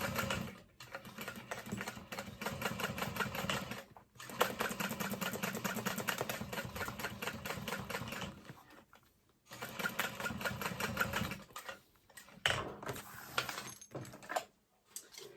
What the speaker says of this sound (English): So about a 1/2 inch box of stitching along those straps